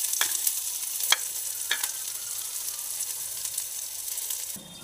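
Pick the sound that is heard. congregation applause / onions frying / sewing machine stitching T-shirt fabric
onions frying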